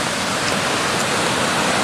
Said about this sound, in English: Oh yeah, there's the river. Up quite a bit higher than it usually is.